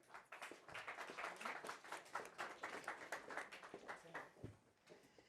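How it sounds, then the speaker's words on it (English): An audience at a Davos panel event clapping half-heartedly, a brief, faint, sparse patter of applause that thins out toward the end. "I'm glad you're all practicing that half-hearted clapping that you have to do all week here around town."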